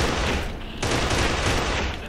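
Heavy shotgun and gunfire bursts in the co-op shooter Kane and Lynch 2, loud and continuous, a dense barrage with a sharper surge partway through and no voices.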